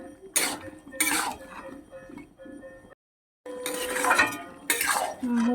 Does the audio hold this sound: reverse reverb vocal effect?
no